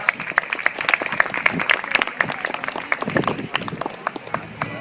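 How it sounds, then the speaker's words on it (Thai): A wedding crowd welcomes the bride and groom, clapping steadily in dense, continuous applause, fairly close, with scattered voices mixed in. "ขอเสียงปรบมือดังต้อนรับคู่บ่าวสาวได้เลยนะครับ"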